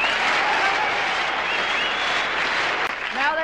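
Applause and cheering from a crowd for a prom dress, a dense, steady wash of clapping that fills the whole stretch at high volume.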